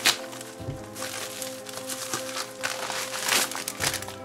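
A taped parcel holding a smart bracelet is torn open up close, with crinkling plastic and paper rustles over a steady electrical hum, plus a few sharper rips.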